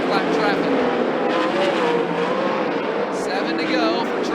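Several 410 sprint cars race on the Skagit Speedway dirt oval, their engines roaring steadily and loudly without a break, while a race commentator talks over the noise throughout.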